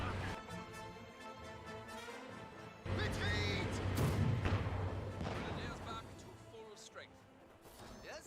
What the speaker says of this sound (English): Good mortar hit there on the captain.